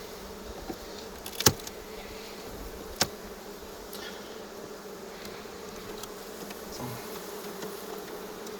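A steady, soft buzz of honeybees around a hive frame during a spring hive inspection hums throughout, broken by a couple of sharp clicks or knocks.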